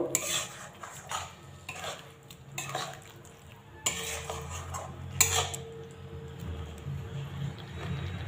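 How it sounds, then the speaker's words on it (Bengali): A spoon clatters and scrapes against the pot in irregular bursts while soya chunks and spinach curry are mixed after water goes in, with a soft bubbling simmer between strokes. "এবার একটু জল দেব পরিমাণ মতো, ভালো করে মিশিয়ে দেব।"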